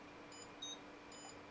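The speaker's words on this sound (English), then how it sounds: "you can hear the beeps in the background. That's from an Arduino" Quiet electronic beeps from an Arduino signalling wasp detection confidence, three short high tones at different pitches over a faint background hum.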